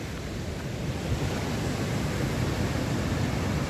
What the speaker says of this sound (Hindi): ये जो दूध नदी है